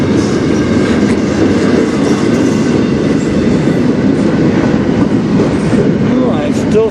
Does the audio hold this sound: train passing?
yes